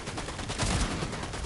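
Rapid gunfire crackles through a video game match, a short dense burst of close, loud shots with a broad, noisy texture and no clear gaps between them.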